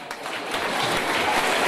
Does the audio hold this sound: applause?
yes